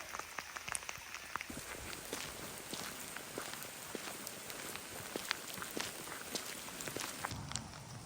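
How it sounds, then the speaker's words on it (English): Rain falls steadily around someone on a misty walk near a lake, a faint constant patter with scattered drop ticks and soft footsteps, no speech. "Yes, it's raining, but it just adds to the atmosphere."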